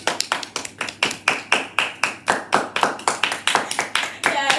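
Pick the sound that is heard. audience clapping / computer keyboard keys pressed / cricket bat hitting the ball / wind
audience clapping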